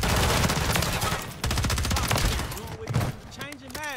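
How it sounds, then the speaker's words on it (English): Rapid bursts of gunfire from enemy players in Modern Warfare 3, loud and dense at first, then thinning into scattered shots with game effects and a voice near the end. "They be shooting for no reason."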